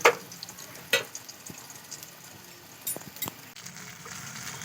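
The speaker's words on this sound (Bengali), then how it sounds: "উল্টিয়ে লাল লাল করে ভালো করে খুব সুন্দর করে ভেজে নেব" Spiny gourd (kakrol) slices frying in a pan, a soft continuous sizzle with a couple of sharp utensil clinks near the start and occasional light scrapes as pieces are turned.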